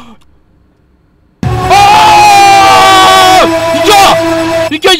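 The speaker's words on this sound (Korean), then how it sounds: "서로 기뻐서 방금 부둥켜 안고 함성을 질렀던 그런 느낌이죠" A crowd in a horror video game cheers and shouts loudly and continuously after a quiet opening, a dense wall of voices that cuts out abruptly near the end.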